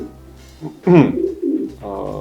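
Pigeons coo close by in a loft, with several soft throaty calls in a row, including one louder rolling coo in the middle.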